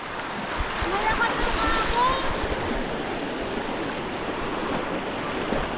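A strong river current rushes loudly and continuously nearby, a dense broadband roar of flowing water with some wind buffeting the microphone.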